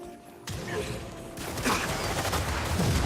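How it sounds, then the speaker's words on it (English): Gunfire in the video game Firefall: a burst of rapid shots kicks in abruptly and keeps rattling as dense, close crackling fire, with a brief voice in the mix. "Nice shooting, boss."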